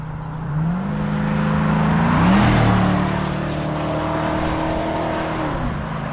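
A 1968 Chevrolet C10 restomod pickup with an LS V8 engine on big tires, taking corners at speed: a steady, loud engine drone that swells briefly mid-way and eases off, with no talking.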